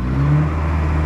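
Pickup truck engine with a new exhaust and new tires, a loud, close, steady low rumble held throughout without pause.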